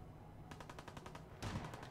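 Gunfire in Fallout 4 comes as a rapid automatic burst of evenly spaced shots, fairly faint and somewhat distant, followed by a louder cluster of shots near the end.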